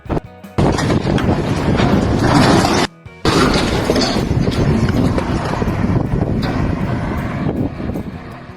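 A crane topples onto a boat in a marina with a loud, sustained crash and roar of wind-buffeted noise, briefly cutting out before continuing and slowly fading.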